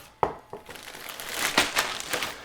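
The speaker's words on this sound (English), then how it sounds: "You can go right from the freezer into a zipper bag" Frozen shrimp tumble into a plastic zipper bag with crinkling plastic and a few sharp clattering knocks, followed by a rustling, rattling spill, close and moderately loud.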